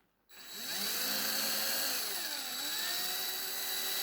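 Small power drill with a sharp bit whining steadily up close as it deburrs soft alloy on a Matchbox No11 Scaffolding truck, starting after a brief silence and holding a continuous high whir with slight pitch dips.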